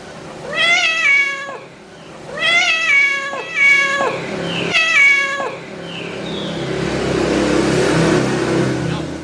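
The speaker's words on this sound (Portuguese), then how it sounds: "O gato, muitos não falam lá que ele fala miau." A cat meows three times in a row, each call loud, close and rising then falling in pitch, followed by a lower rumbling murmur.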